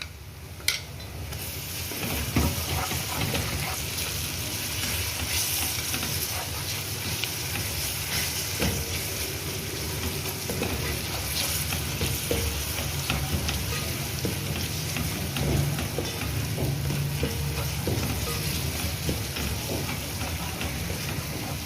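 Continuous soft sizzle of garlic and ginger frying in a pan, with occasional light taps and scrapes, steady and moderately quiet throughout.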